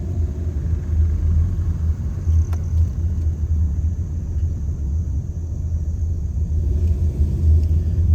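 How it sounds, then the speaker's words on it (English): A car grinding up a steep hill on a rural Appalachian hollow road in West Virginia, its engine a steady low rumble that holds close and loud throughout, with no talk over it. "Car had to kick into overdrive to get up through here."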